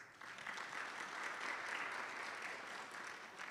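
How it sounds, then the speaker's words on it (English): Steady crowd applause at a youth business awards ceremony, continuous dense clapping from a sizable audience lasting the full few seconds, moderately distant. "all the 3 businesses that were finalists deserve a round of applause"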